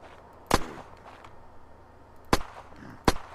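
Three sharp gunshots in the video game Unturned, one alone then two more about a second apart, loud and crisp against a quiet background.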